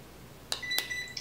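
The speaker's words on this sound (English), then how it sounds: "You should hear one beep." A ZIIP facial device switching on gives short, bright electronic beeps: two quick tones close together, followed by a faint trailing tone, all over a quiet background.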